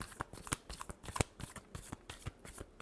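Tarot cards are shuffled by hand nearby, a quick series of crisp riffling flicks and soft slaps in an uneven rhythm, with one sharper snap near the middle.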